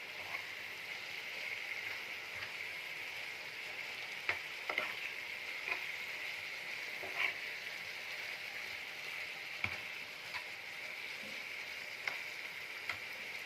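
Chicken liver and gizzards sautéing in a pan with hot peppers and bell peppers, a steady bright sizzle punctuated by sharp spatters and stirring clicks every second or two, fairly faint and without talk.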